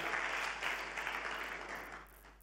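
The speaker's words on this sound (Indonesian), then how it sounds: "Tepuk tangan dong bagi Yesus, haleluya." A brief burst of clapping from a church congregation, soft and somewhat distant, fading over a couple of seconds.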